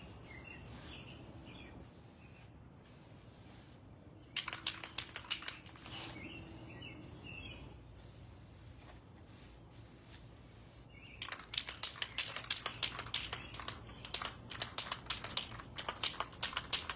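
Metallic silver spray paint hisses from an aerosol can onto L-beams in short bursts and then longer rapid spurts, fairly faint and close, with birds calling in the background.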